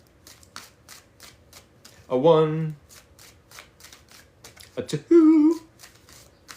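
Tarot cards shuffled in quick riffles, two distinct bursts of crisp fluttering card noise, close and clear, with a woman counting aloud between them.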